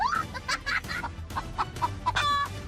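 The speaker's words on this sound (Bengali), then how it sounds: "মোরগ মোরগ" A rooster clucks in a quick run of short, sharp calls, fairly close and loud, ending on a longer drawn-out cluck, with no talking.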